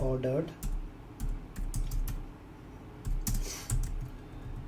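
Rapid clicking of a computer keyboard as a question is typed, in close bursts with short pauses, and a voice speaks briefly at the start.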